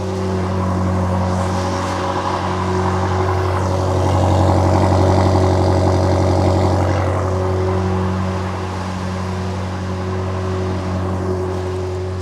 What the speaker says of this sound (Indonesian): saya mau dengar dulu suara dari mesin M5 ini